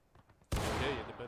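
Musket volley in the War of Rights Civil War game, Gettysburg event: a sudden loud crash of many rifles firing together, followed by a sustained rolling roar of scattered shots.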